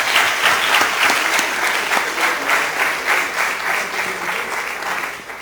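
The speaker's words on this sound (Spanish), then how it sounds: "Un aplauso por los Yémés." A crowd applauds steadily at a missionary gathering of secular clergy, with dense continuous clapping that stays loud and even throughout.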